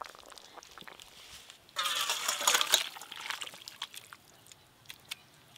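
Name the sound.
pouring fish curry broth with bottle gourd leaves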